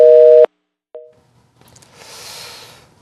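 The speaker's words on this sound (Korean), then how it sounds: "계속해서 전화 연결이 끊어지고 있는데요." A telephone line's busy tone after a dropped call connection during a 2013 Korean news broadcast: one loud steady two-pitch beep, then a shorter fainter one, followed by soft hiss and low noise.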